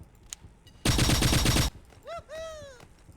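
A rapid, loud burst of repeated gunfire from a weapon in Pixel Gun 3D, lasting under a second, followed by short whooping electronic game effects, with no talk.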